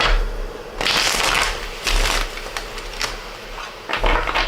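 A deck of tarot cards is shuffled messily by hand, bursts of crisp riffling and flapping card noise in several uneven bouts, close and fairly loud.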